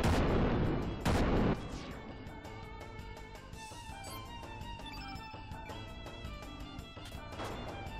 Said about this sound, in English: How is the SS Invincible shooting cannons into this cave?